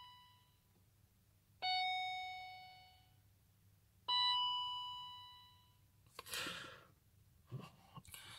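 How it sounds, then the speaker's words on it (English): Two bright electronic chimes from a BMW E39 dashboard computer ring out a few seconds apart, each fading slowly, followed by a couple of short soft rustling noises. "So this is a test of all the beeping sounds and alarms."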